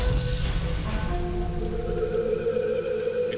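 Heavy rain falls at night as a steady, dense hiss that continues unbroken. A faint tonal hum sits underneath, and no one speaks.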